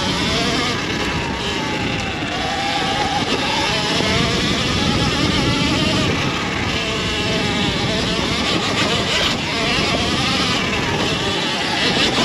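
A Surron Ultra Bee electric dirt bike being ridden hard on a trail gives a constant high, buzzy motor whine mixed with rushing wind noise, loud and close throughout.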